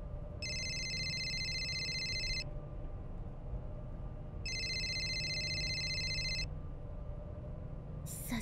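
A phone rings in the video game City Shrouded in Shadow, two long bursts of a bright electronic trill separated by a pause, with a third starting at the end, over a low ambient hum and no talk.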